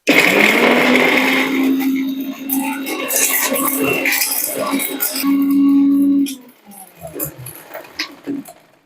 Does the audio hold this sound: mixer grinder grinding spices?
yes